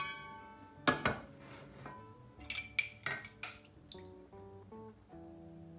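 Sugar, cream and butter for a brownie cream are stirred in a pan, with close metallic clinks and scrapes of a utensil against the pan in an uneven rhythm, and no voices.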